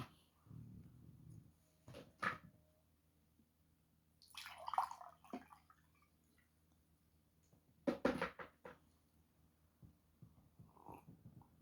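A little water is poured in a quiet room, a few faint splashy trickles arriving in separate short bursts with long silent gaps between them.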